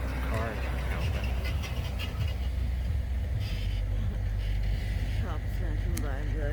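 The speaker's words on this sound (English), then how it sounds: "Cars aren't helping." Cars passing on a dark road at night make a steady low rumble that swells and fades, heard under continuous nearby talking.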